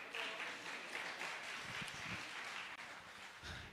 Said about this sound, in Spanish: Un aplauso a la pastora, por favor.